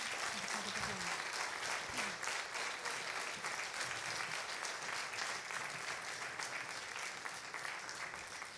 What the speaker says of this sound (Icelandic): klappið fyrir þeim